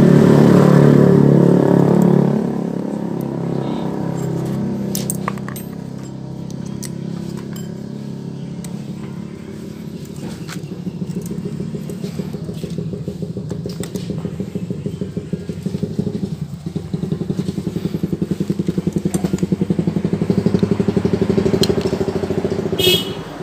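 A Honda Beat carbureted scooter engine idles close by after a carburetor fix, with a steady, chugging mechanical rumble, briefly revving at the start and picking up again later, with occasional small clinks.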